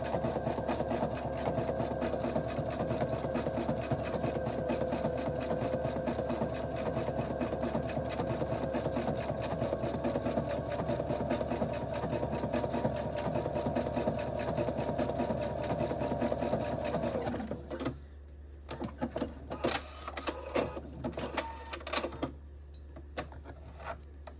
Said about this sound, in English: I am just going to stitch using my J foot